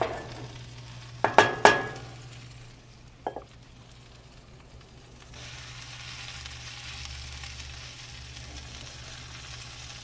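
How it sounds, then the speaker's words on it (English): Onions sautéing in a pan over a wood fire, a faint steady sizzle with a few sharp clanks of utensils against the pan early on. "Our onions are sauteing."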